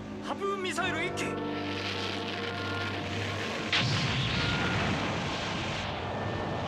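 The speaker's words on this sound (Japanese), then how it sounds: "対艦ミサイル発射。" An anti-ship missile launches with a loud roaring rush that fills the scene, swelling steadily in a sustained blast in an anime naval battle, with a brief burst of voices at the start.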